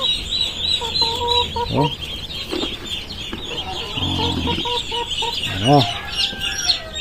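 Newly hatched chicks, incubated without a mother hen, peep in a steady high-pitched chorus of close chirps, with some lower clucking calls mixed in and a few brief spoken words.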